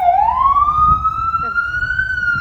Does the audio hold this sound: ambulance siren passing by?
yes